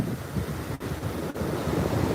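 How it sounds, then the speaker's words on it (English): Ocean waves wash onto a warm beach as a steady, loud roar of surf mixed with heavy wind buffeting the microphone, two brief dips breaking the noise, with no voices. "Suspend all reality wherever you are right now and listen to the waves."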